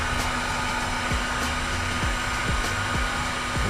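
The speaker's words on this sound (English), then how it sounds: "It's going to be a little noisy with that heat gun going" A heat gun warming one-ounce ball jigs blows a steady, loud whirring hiss without a break, with faint clinks and taps of handling over it.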